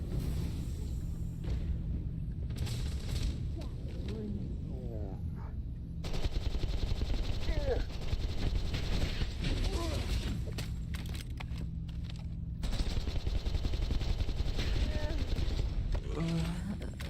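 Game gunfire in Starfield, rapid bursts of shots crackling amid a busy mix of music, effects and occasional in-game voices, continuing steadily throughout.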